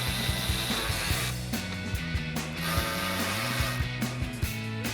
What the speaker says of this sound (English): Then for our nuts, we're going to use our 10 millimeter socket and tighten these down.